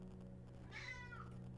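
A pet cat lets out a single drawn-out meow with a rising then falling pitch, faint and somewhat distant over a steady low background hum.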